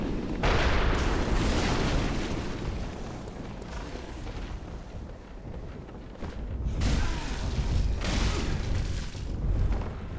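Heavy cannon fire from the cannon-wielding enemy in Bloodborne's Chalice dungeons: two loud, rumbling explosive blasts, one at the start and another several seconds later, each trailing into a long noisy decay.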